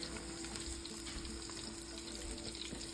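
Flour-dusted shrimp fry in hot oil in a pan, giving a constant close crackling sizzle that stays even throughout with no talking.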